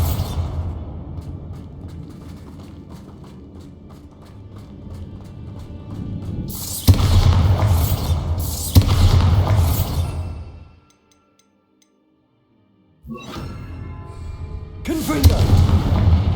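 Booming blasts from the Bombarda blasting spell in Hogwarts Legacy, a rumbling barrage with two loud heavy impacts, then a brief silence before more explosive bursts return.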